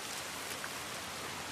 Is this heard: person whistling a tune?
no